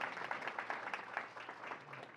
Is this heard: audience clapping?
yes